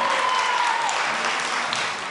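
A packed room of parents at a Keller ISD school board meeting claps and cheers loudly. A sharp whistle cuts in over a continuous wash of applause that holds steady and tapers slightly at the end.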